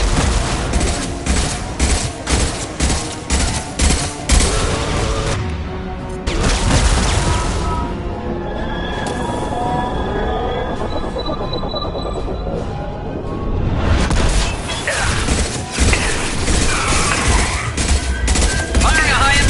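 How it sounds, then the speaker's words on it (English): Heavy gunfire from a high-impact weapon in Mass Effect 2, loud bursts of shots and booms in the opening seconds, a quieter stretch with lingering rumble and tones, then another volley of firing near the end. "Firing a high-impact shot!"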